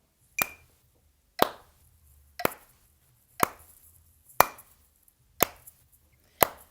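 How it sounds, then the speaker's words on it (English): Seven sharp hand claps spaced evenly about a second apart, keeping time with a 60 bpm metronome beat, each crisp and close with a short decay into quiet. "the thing we're gonna do is clap on the beat"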